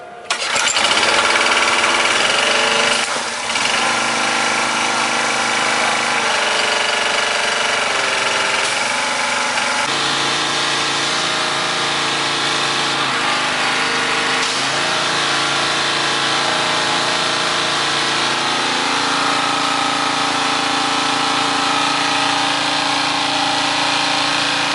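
Briggs Quantum small engine, a blown-up unit under rebuild, starting with a loud burst and then running steadily at full throttle, a sustained close droning roar with small shifts in pitch and no talk.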